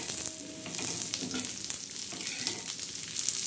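Chilies frying in dark roasted red masala for a fish curry, a soft steady sizzle with faint crackles throughout, quiet and close with no talking.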